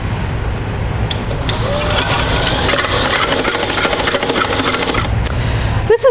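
Stand mixer beating eggs on high speed: a loud, continuous mechanical whirring with a low motor hum runs throughout, ending in a few short knocks, and no one talks.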